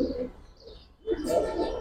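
Domestic pigeon cooing, a Bengali fancy breed kept in a loft, soft low coos repeating near at hand with brief chirps, then a louder burst of cooing and rustling toward the end.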